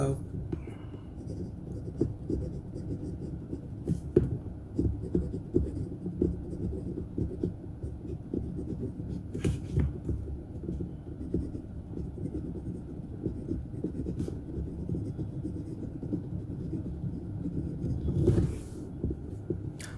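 A Syahi Imperator fountain pen with a steel nib writing on paper, giving a soft, continuous scratchy rustle of strokes at close range, quiet and steady throughout, with faint low rumble in the background.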